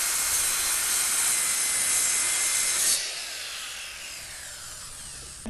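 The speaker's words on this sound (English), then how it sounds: "get the saw out and cut this off" Hand saw cutting off the rough end of a plywood table, a close, rasping run of strokes that blur together, then the sound thins and softens as the cut finishes.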